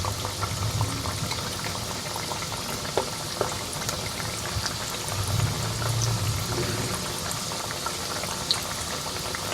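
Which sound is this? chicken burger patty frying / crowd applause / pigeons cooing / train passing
chicken burger patty frying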